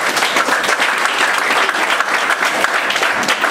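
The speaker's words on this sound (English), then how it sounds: "Let's give her a round of applause." Audience applause at a press conference for a grand opening, a steady dense wash of clapping hands filling the room, loud and close, with no talking over it.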